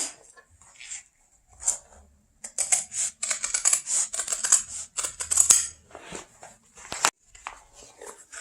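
Scissors snip through clear plastic sheet for a boat window, a run of crisp close cuts and crinkling rustles in bursts, with quiet pauses between.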